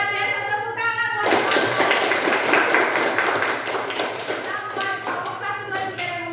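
A classroom of eighth-grade students bursts into lively, scattered clapping that continues for several seconds, with children's voices and chatter mixed in beneath it.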